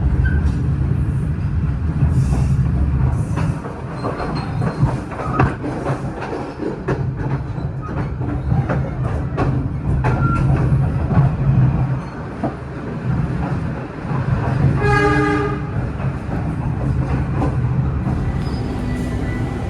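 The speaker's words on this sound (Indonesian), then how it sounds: "Tetaplah berada di tempat duduk sampai kereta berhenti dengan sempurna." Kahuripan economy-class train slowing into Blitar station, a loud continuous rumble with wheel clatter inside the carriage, ending in a brief high brake squeal as it comes to a stop.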